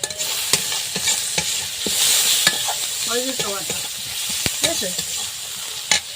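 Banana flower with prawns, salt and turmeric is stirred in a sizzling pan. Repeated sharp scrapes and knocks ride over a steady frying hiss, and someone speaks briefly partway through.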